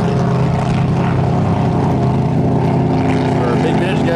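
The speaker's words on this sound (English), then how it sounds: "Some good old boats right here." Powerful vintage racing boat engines, including a 6-liter, roar steadily at close range during a race heat, a loud continuous drone with shifting pitch and no pauses.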